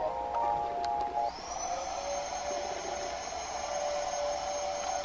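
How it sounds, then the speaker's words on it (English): A Victure BM45 baby monitor plays white noise, a steady, faint hiss with a thin tonal hum running underneath and a short tone near the start. "Is this supposed to be like white noise?"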